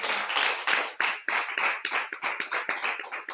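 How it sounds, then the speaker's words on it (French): A church congregation clapping for the Lord during a French-language service: loud, close, rhythmic group clapping in quick, regular beats, with no talk over it. "Applaudis pour le Seigneur."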